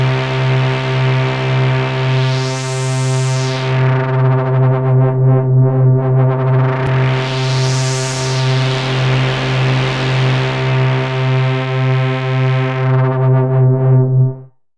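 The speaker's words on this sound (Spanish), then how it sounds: "Ahora escuchamos un poco de ruido blanco y un filtro actuar." A buzzy synth patch in Ableton Learning Synths, played with a filter sweeping slowly up and back down twice, giving a loud, steady, whooshing tone that cuts off abruptly at the end.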